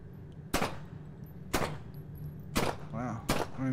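Four loud gunshots from a low-recoil gun in the video game Skibidi Toilet: Invasion, spaced about a second apart, each a sharp crack with a short ringing tail.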